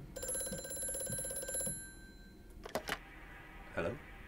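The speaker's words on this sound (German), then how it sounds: "Telefon." An old-style telephone rings in Amnesia: A Machine for Pigs, a rapid bell trill lasting under two seconds, followed by brief sharp sounds and a spoken remark.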